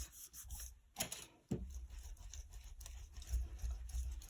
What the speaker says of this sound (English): just burnish this so it comes out nice and smooth